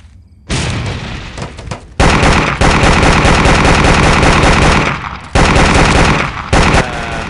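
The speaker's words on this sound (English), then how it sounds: "No, let's actually use some AK." AK rifle fire in the Vietnam 2: Special Assignment video game, loud sustained automatic bursts with brief pauses between long strings of rapid shots.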